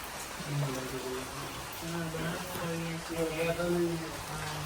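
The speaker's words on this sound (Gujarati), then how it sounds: "અને વરસાદ ચાલુ થઈ ગયો છે ફૂલ." Heavy rain falls with a constant hiss of drops on surfaces, heard under a voice talking nearby.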